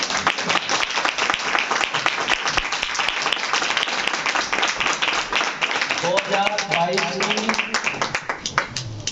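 Congregation clapping at a church healing ministry anniversary service, a loud sustained wash of many hands, with voices rising over it near the end.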